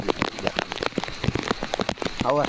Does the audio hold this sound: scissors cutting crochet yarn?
no